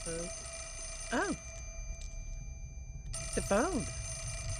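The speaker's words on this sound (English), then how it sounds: "It's a phone." A telephone rings in the Fatal Frame video game, two short warbling ring bursts separated by a pause, heard clearly over a quiet ambient background hum.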